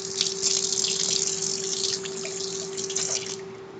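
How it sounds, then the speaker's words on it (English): Hands being washed at a kitchen sink under running tap water, a steady close splashing stream with a faint hum beneath, easing off toward the end, no talk. "Gonna wash my hands."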